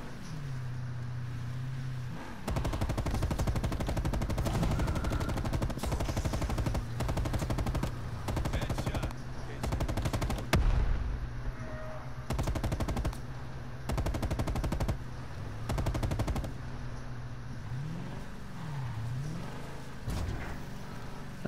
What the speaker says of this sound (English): That gun is fucking loud.